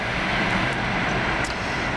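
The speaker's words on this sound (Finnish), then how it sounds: "Näköjään juna menee." A train passes at a distance in a snowy outdoor setting, a steady broadband rumble and rush that holds evenly for the whole stretch with no talk over it.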